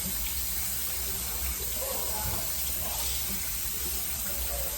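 Tap water runs steadily into a sink as vegetables for homemade pickle relish are rinsed, a continuous close hiss with no voices.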